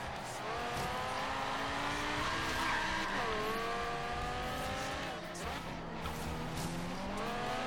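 Car drifting in Forza Horizon 3, with tires squealing in long sliding, shifting tones over a continuous engine roar, steady and loud throughout.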